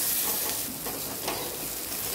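Cut eggplant and chopped onion fry in a pan with salt, turmeric and ground spice paste, giving a steady, close, hissing sizzle throughout with no voices.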